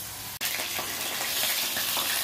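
Chicken and cabbage cutlets are lowered into hot white oil and set up a loud, continuous sizzle, with a brief clatter at the moment they drop in. Nobody speaks.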